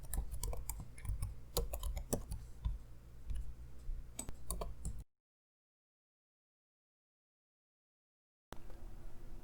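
Rapid clicking keystrokes on a computer keyboard as text is typed, close and fairly quiet, cutting to silence midway before resuming briefly.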